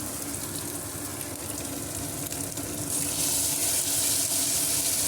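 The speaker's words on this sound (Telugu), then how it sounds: "కట్ చేసి పెట్టిన టమాటోస్ కూడా వేసుకుందాము." Chopped tomatoes added to a sizzling brinjal and drumstick curry in the pan, a dense close frying hiss that swells louder partway through as the tomatoes hit the hot oil.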